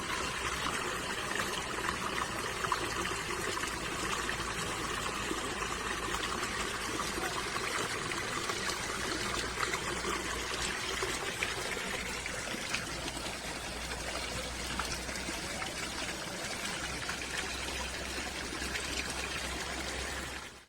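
Water has overflowed nonstop from a tube well for 25 years. It pours and splashes continuously in a bright, trickling gush that stays steady and close for the whole stretch, then cuts off at the end.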